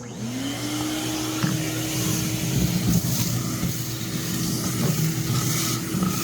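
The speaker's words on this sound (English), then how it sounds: "we're just going to vacuum all this out. I don't have any good way to scoop it. I don't have a shovel, so we're just going to suck it out." A vacuum cleaner sucks debris out of the bed of a 1969 C20 dump truck, a loud steady whine that spins up at the start and then roars continuously, with rattles and thumps of material being pulled through the hose.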